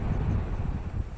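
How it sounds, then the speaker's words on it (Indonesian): Strong wind at a beach buffets the microphone, a steady low roaring rush throughout a brief moment with no voices. "anginnya cukup kencang"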